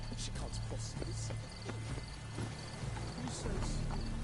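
A horse gallops in The Witcher 3: Wild Hunt, with rhythmic hoof clip-clops, steady and moderately close, under a person talking.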